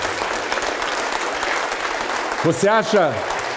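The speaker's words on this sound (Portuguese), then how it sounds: "vamos aplaudir ao nome do Senhor." A church congregation claps in praise during a worship service, a loud continuous wash of applause with a voice rising over it near the end.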